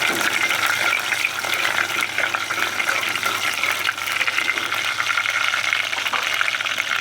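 Chopped green chillies sizzling in hot oil, a loud, dense, continuous crackle and hiss close up throughout.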